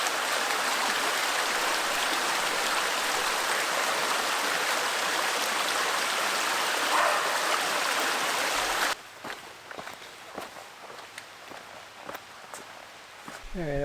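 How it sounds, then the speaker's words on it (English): Christopher Creek on the Mogollon Rim runs as a loud, steady wash of flowing water close by for most of the stretch, then cuts to a quieter scene with scattered footsteps and knocks. "Oh, here is Christopher Creek."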